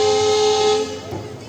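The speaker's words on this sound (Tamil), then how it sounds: "WDP4D ஹாங்கிங்கோட டீசல் ஆக்ஷன் ஸ்டார்ட் ஆயிடுச்சு" Diesel WDP4D locomotive horn sounds in one long steady blast, loud and close, on the Tambaram to Rameswaram express, then cuts off into lower rumbling train noise.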